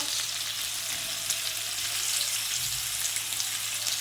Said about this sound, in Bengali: আলু আর পটল দিয়ে মশলাটা ভালো করে কষার জন্য